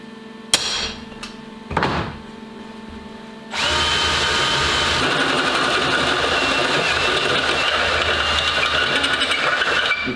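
A power drill bores holes into the body of an Iveco Daily campervan: a few short bursts and knocks first, then a long, loud, continuous whining grind of the bit cutting through metal.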